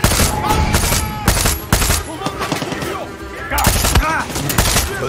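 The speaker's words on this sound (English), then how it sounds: "Gunshot." Far Cry 6 gunfire rings out as a chaotic, loud exchange of sharp shots and bursts, with overlapping impacts and clatter filling the scene.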